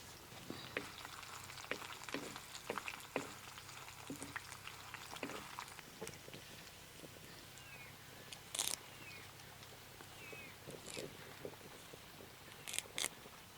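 Garlic cloves and dried red chilies frying in hot tempering oil for ridge gourd dal give a faint, steady sizzle, broken by scattered crackles and pops and a few sharp clinks.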